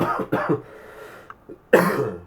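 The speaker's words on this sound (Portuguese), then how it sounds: "Perdão, mas eu ainda estou com uma tosse alérgica" A few harsh allergy coughs up close, a quick pair at the start, small throat sounds in the middle, then one louder cough near the end.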